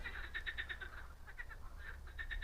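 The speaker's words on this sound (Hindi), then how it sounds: "ये पूरी मेंढक की आवाज़ आ रही है, कहाँ से आ रही है" Frogs croak beside a river in Europe, their rapid pulsed calls repeating in bursts at moderate distance over a steady low background hum.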